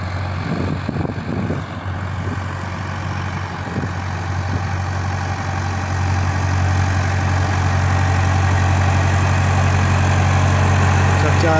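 A tractor engine idles steadily on a farm in Saudi Arabia, a loud, constant low drone that grows slightly stronger over the clip while a voice speaks faintly over it.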